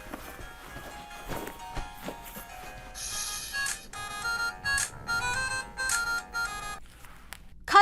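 A telephone ringtone sounds indoors in a steady run of repeated bursts, fairly quiet and with no talking over it.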